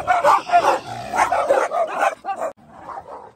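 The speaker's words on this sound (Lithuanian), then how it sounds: "Nepasakyčiau, kad labai svetingai nusiteikia Elbatano šunyčiai." Village dogs in El Batán, Tenerife, bark and yip close by in a quick overlapping burst, a whimpering note mixed in, then a fainter bark or two trailing off.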